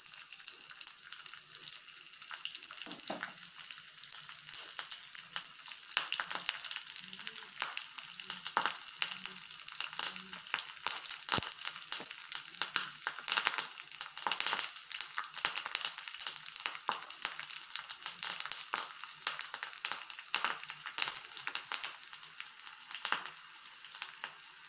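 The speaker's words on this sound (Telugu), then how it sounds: "కరివేపాకు, వెల్లిపాయలు వేసి పోపేసుకోవాలి" Curry leaves and garlic crackle in hot oil as a tempering for a Telugu tomato pickle, giving a steady close sizzle dotted with sharp pops that runs without a break and with no talking.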